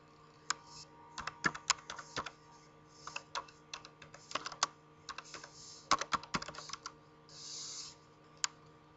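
Rapid, irregular keystrokes on a computer keyboard as a command is entered at a PC's command prompt, with clustered clicks and brief pauses over a steady low hum, no talking.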